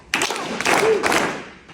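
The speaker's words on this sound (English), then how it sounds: "give me three big claps" Town hall audience in Grinnell, Iowa clapping together in rhythm, a short burst of loud group claps in a room, with crowd murmur around it.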